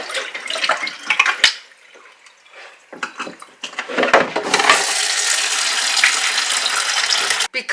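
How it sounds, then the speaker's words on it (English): Tap water running into a kitchen sink, a steady broadband rush that builds and holds loud after some earlier splashing and clatter. "then I will fill the sink"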